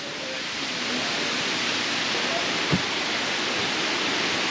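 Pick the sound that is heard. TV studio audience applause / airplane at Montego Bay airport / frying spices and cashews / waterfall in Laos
waterfall in Laos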